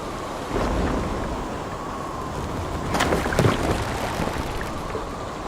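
A storm at sea in Assassin's Creed Valhalla gives steady roaring wind and rain. A brief thunder-like crack and rumble rises partway through.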